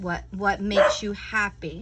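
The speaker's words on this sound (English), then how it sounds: "That's my dog." A pet dog named Mimi barks in short, sharp bursts close by, mixed in with someone talking over it.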